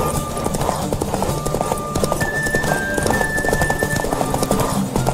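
Roach galloping in a Witcher 3 horse derby, brisk rhythmic hoofbeats close and loud with a whinny and musical tones over the pounding gallop, little talk.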